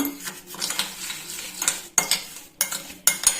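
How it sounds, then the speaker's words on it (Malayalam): Spoon stirring curd into a cake batter in a bowl: soft wet swishing broken by several sharp metallic clinks and scrapes against the bowl, close and clear, with no voices. "അതുവരെ സ്പൂൺ വെച്ചിട്ട് മിക്സ് ചെയ്യാം"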